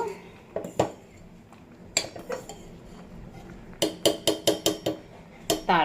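Cooking pot of rice lifted off a home stove, with a series of metallic clinks and clatters of pot, lid and utensils, some in quick bursts, close and moderately loud.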